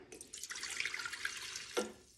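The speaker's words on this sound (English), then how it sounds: "now I'm gonna dump my water in" Water is poured from a container into a nonstick-sprayed Hamilton Beach bread machine pan, a close, bright splashing gush lasting about a second and a half, then a short final splash and drip.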